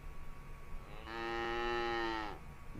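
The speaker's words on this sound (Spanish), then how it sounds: "¿Recuerdas el sonido que hacía la vaca?" A cow gives one long, drawn-out moo lasting over a second, rich and strongly voiced, rising out of a quiet background and fading away at the end, heard alone and close.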